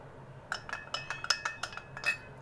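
A metal spoon clinks steadily against a small bowl or pot while stirring aloe vera gel into a strained homemade hair oil, a run of close, light taps and scrapes over faint background hum.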